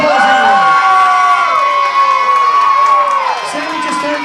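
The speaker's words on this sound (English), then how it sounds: "Big applause, everyone." Lively crowd at a singing contest cheering and whooping loudly, with excited shouts and some children's voices over a dense wash of applause, sustained throughout.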